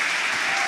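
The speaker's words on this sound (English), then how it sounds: "Get applauded from those in the West Stand below." Football crowd in the West Stand of a stadium applauding substitutes emerging from the Leeds United bench against Coventry City, a steady, dense wash of clapping from many hands, loud and continuous without a break.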